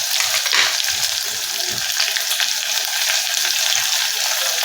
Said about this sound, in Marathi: तमालपत्र टाकल्यावर लगेच आपण कांदा घालतो